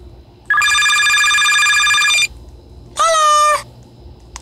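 A phone rings inside the Roblox video game as a loud electronic tone. It sounds in two bursts, a long steady one and then a shorter warbling one, with no talk over them.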